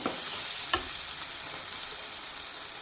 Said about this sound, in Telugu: మెంతాకు కూడా నేను ఇప్పుడే వేసుకుంటున్నాను మీ మెంతాకు కూడా కొంచెం వేపుకోవాలి బాగుంటుంది ఆయిల్లో వేపుకోవడం వల్ల